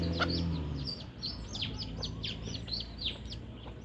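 Chicks peep in a rapid series of high, bright chirps while hens and young roosters cluck low underneath, with a brief hum at the start, all at moderate distance among farmyard brush.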